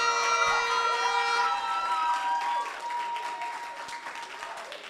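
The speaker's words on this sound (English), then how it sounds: "Clap for them." Audience applause for student union election candidates at a university results announcement, broad clapping held steady and loud throughout, mixed with a sustained musical tone and some crowd noise.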